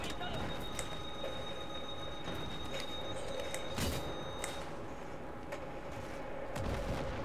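Gunfire in the PS3 shooter Battlefield 3 during co-op play, sharp shots cracking at irregular intervals over a constant low battlefield rumble, fairly quiet overall.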